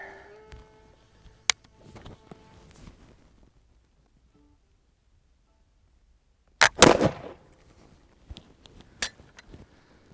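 A Charleville 1766/68 flintlock musket fires one loud, sharp shot after a long quiet pause. A ringing decay follows, and a few faint clicks and handling noises come before and after.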